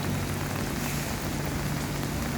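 Heavy monsoon rain pours over Navi Mumbai as a dense, even roar of falling water, loud and constant across the whole short stretch, with no voices.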